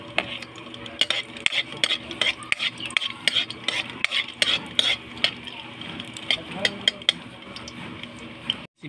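Garlic dropped into hot oil for an outdoor lechon paksiw: a continuous crackling sizzle with busy clicks and scrapes of a utensil stirring against the pan, fairly close.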